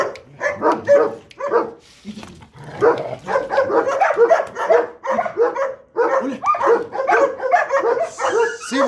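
A dog barks repeatedly at close range on a farm under construction, in quick, uneven bursts, mixed with whiny yips and short pauses.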